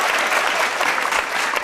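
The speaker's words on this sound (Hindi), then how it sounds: "तो अब जरा मिलके ताली बजा दीजिएगा और आनंद में रहिएगा" Audience clapping at a Hindi comedic satire poetry gathering, dense and steady applause from a large crowd filling the whole moment, loud and close, with no speech on top.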